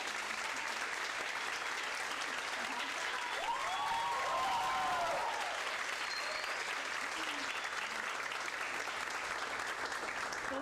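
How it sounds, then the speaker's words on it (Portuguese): Warm audience applause at an accounting-week lecture at a Brazilian university, a steady dense wash of clapping that holds the whole time, with faint voices rising briefly in the middle. "eu gostaria também de uma calorosa salva de palmas para vocês"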